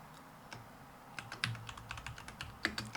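Close, clattering keystrokes on a computer keyboard at a cluttered desk, typed in short irregular bursts with louder key hits scattered through, no voices.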